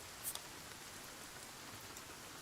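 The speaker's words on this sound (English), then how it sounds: "Oh, it's raining." Steady rain falls in the survival game Sons of the Forest, a soft, even wash of patter filling the space with a few brighter drop hits near the start, quiet and continuous with no talk.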